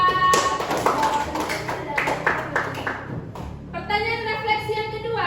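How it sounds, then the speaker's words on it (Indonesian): A class clapping in a classroom lesson, a short burst of scattered claps up front that thins out, followed by a tonal voice or sound near the end. "tepuk tangan dulu untuk Julpa."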